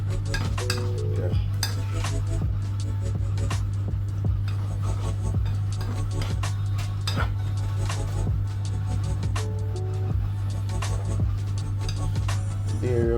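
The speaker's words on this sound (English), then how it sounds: "First I do the mackerel with the okra." Mackerel and okra cooking in a pot, with steady clinks and scrapes of utensils against cookware over a constant low hum throughout.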